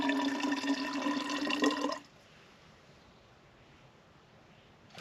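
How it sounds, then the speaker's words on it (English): Water poured from a pot back into a bottle at a remote mountain forest campsite while backpacking, a steady gurgling stream for about two seconds that cuts off abruptly, leaving quiet outdoor background. "So I'm gonna pour a little bit back in my bottle."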